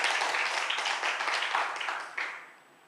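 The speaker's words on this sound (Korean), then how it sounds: "우리 1년 동안 감사한 박수를 하나님께 한번 드릴까요?" Church congregation applauding during a Sunday worship service, a dense wash of many hands clapping steadily for a few seconds, then fading quickly to quiet at the end.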